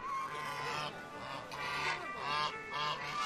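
Geese honk in a noisy, overlapping chorus before the annual Goose Palio race in the village of Mirano, Italy, a flock calling repeatedly at moderate distance.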